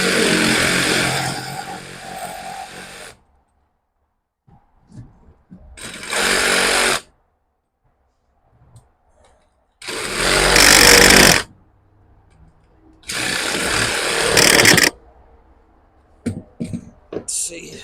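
A power tool cuts in loud bursts inside a gutted step van, just above its aluminum floor, with four separate runs of a second or two each and quiet gaps between them.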